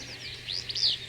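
Birds chirp in a quick series of high, bright tweets, several short calls clustered near the end over a faint steady background hum.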